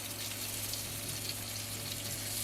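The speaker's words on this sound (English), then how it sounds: "that's what you wanna hear, that sizzle" A pizza sizzles in a pan inside a home oven, a soft, steady crackling hiss that runs on evenly with no talk.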